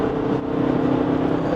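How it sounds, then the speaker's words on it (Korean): Jaguar F-Pace SUV engine accelerating after a kickdown on a road test drive, a loud continuous rising roar mixed with wind noise heard from inside the cabin, with no talk. "엔진 소리가 좀 살아나면서 속도를 좀 높여가고 있죠"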